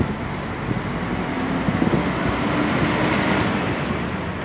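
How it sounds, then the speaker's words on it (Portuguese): An Expresso Guanabara New G7 coach pulls out of the Graal Market Dutra rest stop in Guararema, São Paulo. A steady low engine rumble holds throughout over broad road noise, fairly close and even in loudness. "agora sim tá saindo o carro aí da Expresso Guanabara aí"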